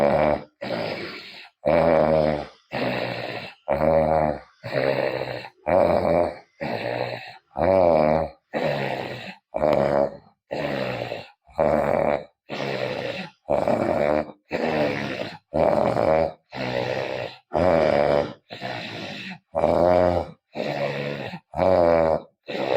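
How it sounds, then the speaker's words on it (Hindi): Ujjayi pranayama breathing during a yoga class: about twenty slow, loud throaty breaths with a snoring-like rasp, evenly spaced with short gaps, close and alone. "सांस लेते समय और छोड़ते समय खर्राटे जैसी आवाज करेंगे"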